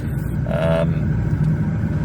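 Car driving slowly down a very tight street, heard from inside as a steady low engine and road rumble, with a brief voice partway through.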